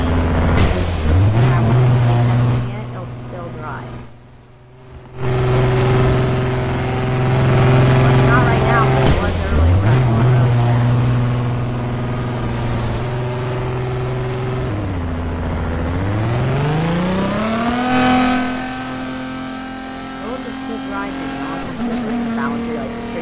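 An engine hums steadily as a car drives by itself in a Roblox game, its pitch dropping and rising again as it slows and speeds up, with a person talking over it.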